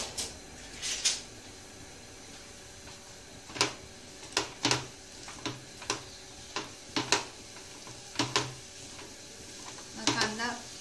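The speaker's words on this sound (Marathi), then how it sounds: "हा कांदा ह्याच्यात चांगला भाजून घ्यायचा" Onion frying in a spoonful or two of oil for a chicken masala gravy. A utensil clinks and scrapes against the pan in scattered, distinct stirring strokes over a faint, steady sizzle, heard close up and fairly quiet.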